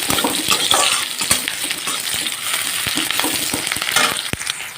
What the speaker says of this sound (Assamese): পিয়াজখিনি অকণমান ভাজি ল'ম ৰঙা কৰি